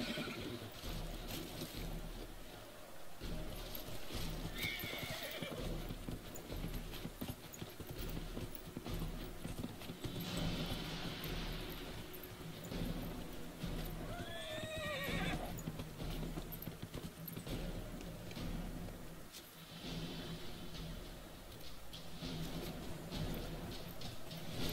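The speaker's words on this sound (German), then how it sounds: "Holen uns jetzt auf jeden Fall erstmal ein Pferd." Horse hooves clip-clop steadily and a horse neighs in the video game Dragon Age: Inquisition, sitting faintly under a dense bed of game music and ambience.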